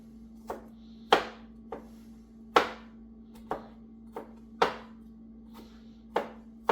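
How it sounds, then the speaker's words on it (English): Knife chopping garlic on a cutting board in uneven strokes, about a dozen sharp thuds spaced irregularly, close up, over a steady low hum. "I suck at chopping garlic."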